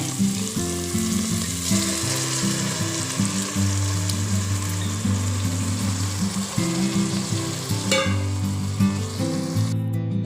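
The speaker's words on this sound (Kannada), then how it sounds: "ಇದು ಮಸಾಲ ಚೆನ್ನಾಗಿ ಈ ಎಣ್ಣೆಗುಳ್ಳಿಯಲ್ಲಿ ಚೆನ್ನಾಗಿ ಫ್ರೈ ಆಗಲಿ" Masala sizzles steadily in hot oil in a seasoning for fish curry, a continuous loud frying crackle with occasional stirring scrapes, with no talking.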